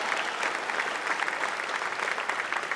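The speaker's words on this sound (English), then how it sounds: "Give Amin Skip Akbar a round of applause" A dense, steady burst of audience applause at a ribbon-cutting ceremony for a community center, many hands clapping together at close range and holding an even loudness throughout.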